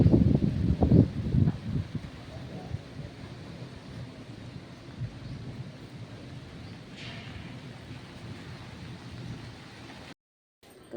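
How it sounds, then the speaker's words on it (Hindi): Steady evening rain hisses with gusting strong wind throughout, a few heavier bursts near the start, and a brief dropout near the end. "तेज़ हवा भी चल रही है और बारिश भी आ रही है"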